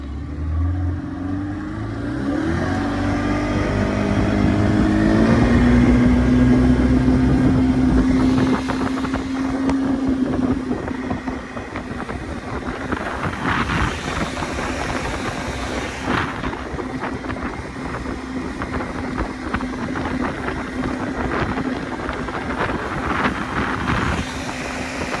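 Outboard motorboat engine revving up on the water as the boat accelerates to get on plane, loud and steady with rising pitch, then droning on with wind buffeting the microphone; the engine has a weak pulse pump.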